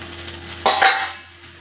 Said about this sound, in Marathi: मी झाकण काढते बघा